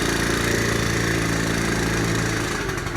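A 1980 Honda Express NC50 moped engine idles steadily while warming up, a close, even low putter with a dense harmonic buzz that holds without revving throughout.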